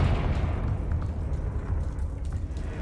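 A Confringo blast spell erupts in Hogwarts Legacy, a loud, rumbling, low-heavy explosion that stays dense and sustained throughout, with no one talking.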